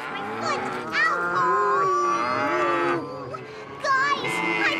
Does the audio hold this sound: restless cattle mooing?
yes